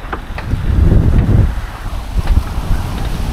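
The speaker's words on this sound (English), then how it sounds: "both sails are up and we are sailing" Wind roaring across the microphone on a sailboat under both sails, with a steady low rush of water and hull noise, loud and close, and no one speaking.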